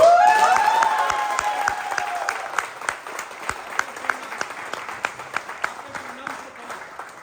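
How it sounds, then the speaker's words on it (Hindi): At a live comedy play, an audience bursts into applause that starts dense and loud under a speaker's voice, then thins into scattered individual claps that fade toward the end. "इन सब के लिए इतनी जोरदार ताली बजनी चाहिए कि महफिल में भी जाए"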